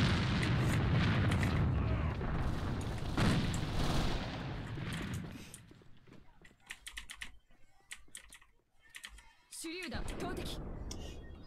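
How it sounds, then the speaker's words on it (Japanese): A grenade goes off in the shooter AVA: a loud, broad blast fills the opening seconds, then gives way to sparse gunshots and rapid keyboard clatter, with someone talking. "クソみたいなグレネードだ、これ"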